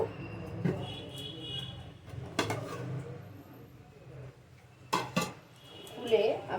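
A covered pot of pulao is handled and shaken, giving a few scattered metallic clanks and rattles of lid and pan between quiet stretches, with a voice speaking faintly at times.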